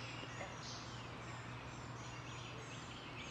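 Outdoor ambience at a boat launch on Trap Pond, Delaware: birds chirping and calling over a steady low hum, with a faint chorus of frogs in the background.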